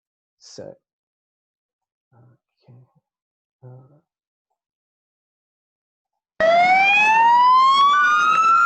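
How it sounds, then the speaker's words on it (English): After a few faint murmurs, loud wailing emergency vehicle sirens in Christchurch suddenly rise and sweep in pitch, close by and sustained. "Sirens shatter the peace of Christchurch."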